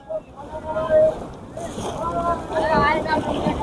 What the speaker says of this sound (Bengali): শুরু হয়ে গেল আমাদের ব্যানানা রাইড।